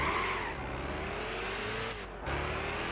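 A race car in Gran Turismo 6 on Willow Springs during an S Licence challenge: a steady, loud engine drone that holds on, dips briefly, then returns at full volume.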